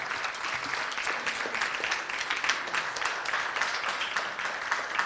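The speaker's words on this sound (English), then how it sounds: "give a quick round of applause to Mary Rouse, who made this happen" An audience at an arts-in-education spring celebration gives a round of applause, steady crisp clapping of moderate loudness that continues evenly throughout.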